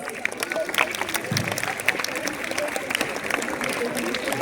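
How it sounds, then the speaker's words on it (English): A school audience claps to welcome the judges at a Grade 10 skit event, moderately loud continuous applause with some crowd murmur beneath. "Let's welcome our judges with a warm round of applause."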